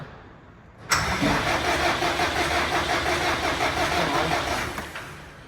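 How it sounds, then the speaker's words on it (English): An engine started for the first time after priming cranks and catches with a sudden loud burst, then runs steadily at a rough, even idle for several seconds, with no talking over it. "We're going to try and start the engine for the first time."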